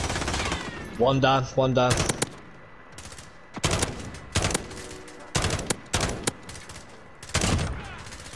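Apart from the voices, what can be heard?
gunfire from behind in a video game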